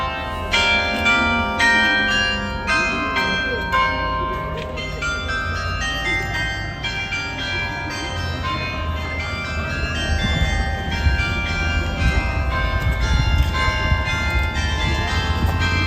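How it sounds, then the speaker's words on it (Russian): Church bells ring continuously in a melodic peal in Aschaffenburg, Germany, layered and resonant, fairly loud and sustained with no talk. "Вы только послушайте, как звучат колокола."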